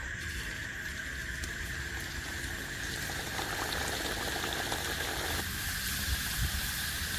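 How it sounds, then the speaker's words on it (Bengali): Fish-stuffed kachori deep-fries in hot oil, a continuous dense bubbling and crackle that holds evenly at a moderate level with no talk. "তেল গরম হয়ে গেছে এবার একটা একটা করে কচুরি ভেজে নেব"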